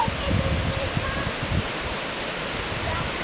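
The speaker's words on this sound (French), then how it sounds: "Et là, vous avez la rivière." A river flowing in Savoie, heard as a steady broadband rush of water with low rumbling, continuous throughout and fairly close, with faint bumps that may be people nearby.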